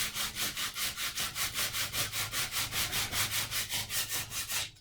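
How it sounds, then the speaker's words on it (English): Sandpaper rubbing back and forth over an old painted wooden bed storage chest in a quick, even rhythm of close, raspy strokes, each stroke clearly separate, with no voices. "So you sand on it as much as you want"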